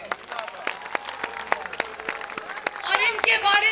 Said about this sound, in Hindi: मेरे भाइयों, जरा हाथ उठा के ताली बजाओ इन सब के लिए